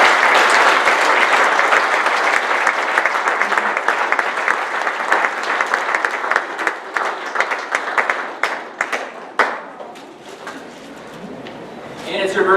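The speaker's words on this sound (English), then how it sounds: "a round of applause for Laura for putting this together for all of you" Audience applause at a 2016 graduation ceremony, a loud, dense burst of many hands clapping that slowly thins into scattered individual claps toward the end, with some voices mixed in.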